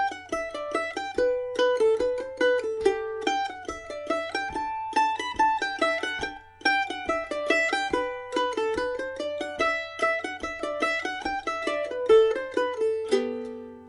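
Close, solo mandolin picks the B part of Miss McLeod's Reel, an even stream of bright notes that leaps up an octave, ending on a short chord.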